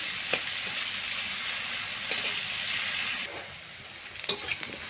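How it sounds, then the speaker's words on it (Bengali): Chopped onions and whole garlic cloves fry in hot oil, a loud steady sizzle that continues close by and eases slightly near the end, broken by a few sharp stirring clatters. "ভালো করে লাল লাল করে পেঁয়াজটা ভেজে নেব।"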